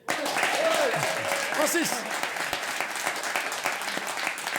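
A studio audience at a French comedy television show breaks into loud, sustained applause, steady clapping across the whole stretch while a voice speaks briefly over it at the start.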